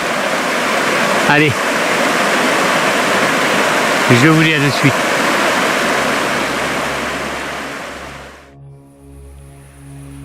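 A river rushes loudly nearby in a broad, constant roar, with a person briefly speaking over it twice before the water noise cuts off abruptly near the end.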